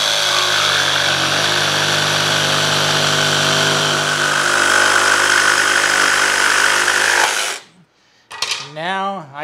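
A jigsaw cuts material indoors, a loud steady motorized buzz running for about seven seconds before stopping abruptly, followed by a brief voice.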